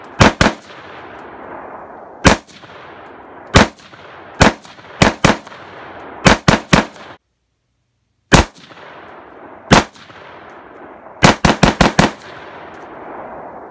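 Shots fired at a target outdoors, loud sharp reports coming singly and in quick clusters, with a brief silent pause midway and ringing decay after each shot.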